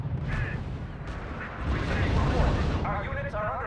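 Artillery fire and gunfire in the real-time strategy video game R.U.S.E., heard as a steady rumbling barrage of booms and shots with game voice radio chatter over it.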